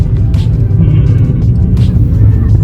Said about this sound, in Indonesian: Gila sih, ditarik sedikit aja udah lari mobilnya.